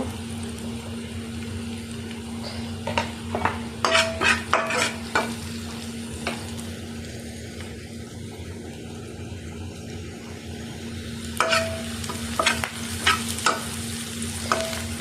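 Onions, green chillies and turmeric fry in oil with a continuous soft sizzle and a low steady hum, while bursts of clattering spatula stirring come near the start and again near the end, close and with no talk.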